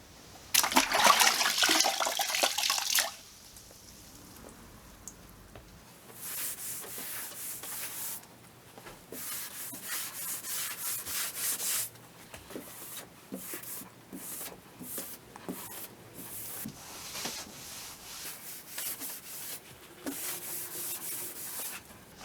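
An RTC Block Microfiber Pro sponge scrubs grout haze off tile, making close, rhythmic rubbing strokes in steady bursts after an opening rush of watery hiss.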